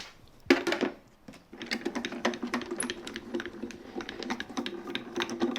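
A die-cutting machine rolls a cutting plate through to cut filigree holly from vellum, giving a quick rapid string of small clicks and ticks after a sharp knock, moderately close.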